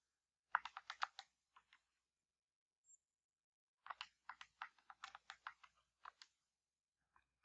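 Quick bursts of light plastic calculator key taps, several presses in a row, then a pause and another run of clicks, close and fairly quiet.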